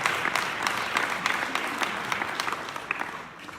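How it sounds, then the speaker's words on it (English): An audience at a City of Naperville leadership event applauds the city's leaders, dense steady clapping from a crowd that holds fairly even for several seconds before easing slightly at the end. "I just want to give them a round of applause because this was something that's helped our city"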